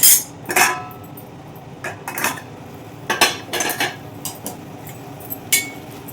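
A lid set onto a cooking pot of bottle gourd curry simmering on a stove, giving a few sharp metallic clinks and clatters spread over several seconds, close and fairly loud, with no voices.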